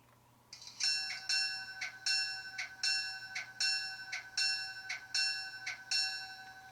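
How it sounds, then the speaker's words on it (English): A bright, ringing bell from an Athearn Genesis L&N GP38-2 model locomotive clangs steadily, about eleven evenly spaced strokes, each tone lingering over a faint low hum. "The bell."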